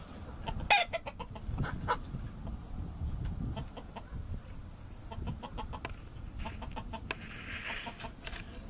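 Game fowl chickens cluck and squawk in a farmyard as a rooster breaks up a fight, with sharp repeated calls over steady rustling and background noise.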